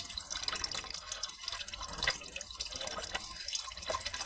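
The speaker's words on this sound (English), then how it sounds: "The water has already started to come out crystal clear" Water from a badly clogged car heater core being flushed out, a steady wet splashing and dripping stream that runs on without a break, close and moderately loud.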